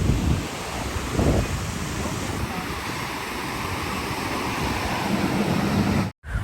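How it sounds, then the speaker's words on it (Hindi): Ocean surf at a beach rolls in as a loud, continuous broadband roar mixed with wind buffeting the microphone, with no distinct voices over it. "वेव्स बड़ी मज़ेदार सी आ रही हैं।"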